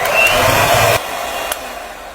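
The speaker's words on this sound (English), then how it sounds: "With the help of a mixer, beat the cream very well until it stiffens." An electric mixer whirs steadily as it beats heavy whipping cream in a bowl, a loud motor drone that drops to a lower, quieter hum partway through.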